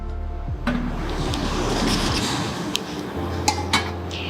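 Metal clanks and scrapes as a small AMC lasagnara pot and its lid are handled, with a few sharp knocks and rattles standing out close to the mic.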